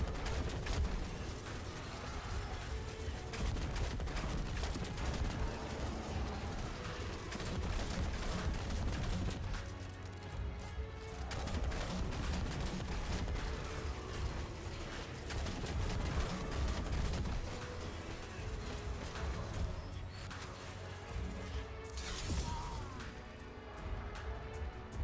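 Repeated heavy explosions and blasts from the Marsilion, a 150 RPM grenade launcher in the video game Destiny 2, pound continuously in a dense, loud barrage with little let-up.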